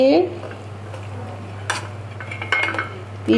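A spoon mixes a sesame and dried fish batter in a bowl, producing soft wet stirring with a few sharper scrapes and clinks over a constant low hum.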